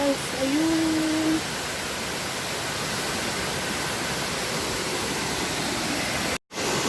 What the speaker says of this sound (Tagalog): So this is the falls.